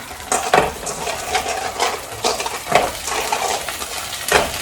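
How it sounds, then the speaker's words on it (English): Rinsed clams dropped into a hot pan for spaghetti alle vongole, sizzling and frying with bursts of spattering and a few clinks of shells and utensil against the pan, close and fairly loud, no talking. "You're going to want to put your clams in here."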